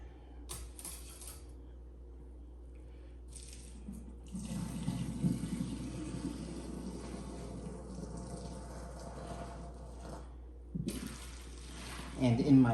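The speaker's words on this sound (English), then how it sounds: "I'll go ahead and strain my pasta water." Pasta water pours and splashes into a kitchen sink as it is strained, a steady rushing gush that runs for several seconds between quieter clinks and a speaking voice.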